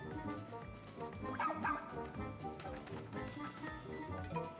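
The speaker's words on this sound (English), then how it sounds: "The dog is opening up a lot." Dogs bark and yip in the video game Pikmin, several short yelps over a busy layered backdrop of game music and effects, fairly loud throughout with no clear voice on top.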